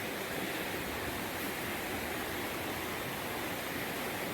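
The Quinapoxet River runs high among huge boulders, giving a soft, continuous rushing wash of flowing water, steady and fairly faint with no voices.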